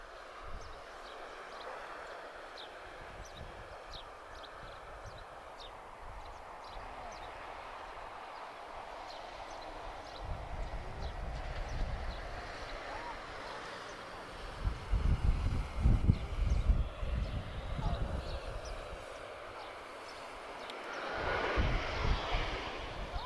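A TAP Air Portugal airliner arrives at Lisbon Airport, a distant, muffled engine rumble that swells in waves and peaks toward the middle before easing, with faint background noise throughout.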